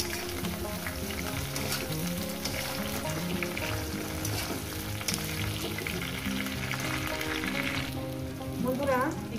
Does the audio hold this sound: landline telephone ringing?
no